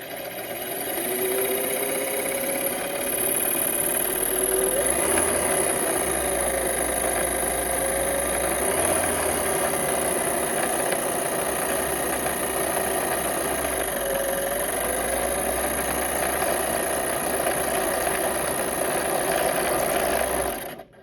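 A Singer Stylist 416 sewing machine runs steadily while winding a bobbin, a continuous close motor whir and hum with slight speed changes, lasting throughout with no talking.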